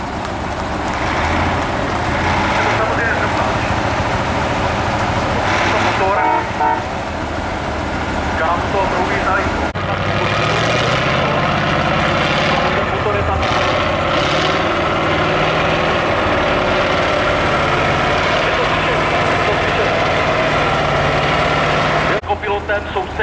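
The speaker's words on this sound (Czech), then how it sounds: "zmáčkejte ten motor, ten uslyšíte, je v něčem zvláštní, je takový nějaký jiný" A Tatra race truck engine runs at a truck trial event in Stráž pod Ralskem, a steady deep diesel drone heard throughout with shifts in load, while a person talks over it.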